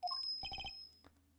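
A small bell on a dog's neck tinkles in the Ace Attorney Investigations video game, giving a bright ring followed by a quick cluster of four light jingles, then one faint chime, close and clear with no talk.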